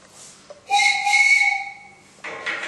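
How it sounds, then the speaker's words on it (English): A train guard's single shrill whistle blast before departure, lasting over a second, clear and fairly close, with faint background sounds before and after. "the guardsman checks everything out, blows the whistle,"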